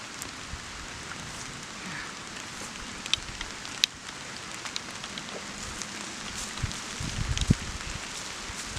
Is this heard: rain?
yes